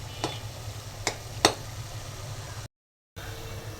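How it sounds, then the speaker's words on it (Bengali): A spinach and shrimp curry simmering in a pan: a soft, low hiss of cooking, broken by three sharp spoon taps or stirring clicks, then a brief total silence before the quiet hiss resumes. "আর দুপুরের জন্য তরকারি বসিয়ে দিলাম পালং শাকের।"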